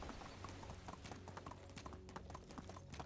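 Horse hooves clip-clop in a steady trotting rhythm through the medieval survival game Medieval Dynasty, a close, continuous patter layered over low ambient game sound.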